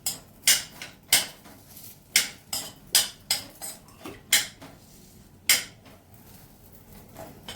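Spoon scraping and clinking against a pan while dates are stirred over a low flame, a series of sharp, close metallic knocks and scrapes at an irregular rhythm with quiet gaps between.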